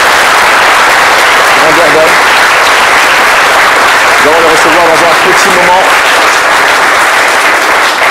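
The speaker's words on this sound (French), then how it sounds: "Ils méritent d'être applaudis pour cette grandeur" Studio audience applause breaks out during a live midday show on Ivorian television, a dense steady patter of many hands running the whole stretch while a presenter keeps talking over it.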